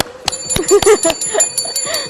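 A small bell rung repeatedly in quick succession, with bright, close metallic strikes and lingering tones overlapping one another.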